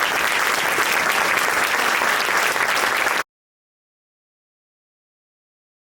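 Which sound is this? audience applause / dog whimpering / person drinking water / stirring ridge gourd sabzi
audience applause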